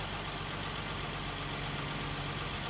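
A 2014 Nissan Maxima's 3.5-litre VQ35DE V6 idles steadily, a faint, even low-pitched hum with no voices over it.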